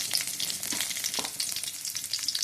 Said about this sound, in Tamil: எண்ணெய் வச்சுட்டு கடுகு உளுந்து போட்டேன், கருவேப்பிலை போட்டுக்கிறேன், அதிலே வரமிளகாய் போட்டுக்கிறேன்